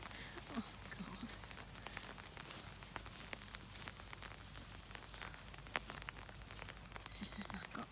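Rain falling in a park in Scotland, a steady broadband patter of drops on surfaces and wet ground, close and continuous, with scattered louder drips throughout.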